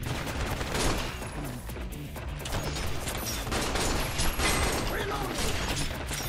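Gunfire in the video game Binary Domain rattles continuously in dense bursts, with mechanical clicks and clatter throughout, loud and close, with some game voices beneath.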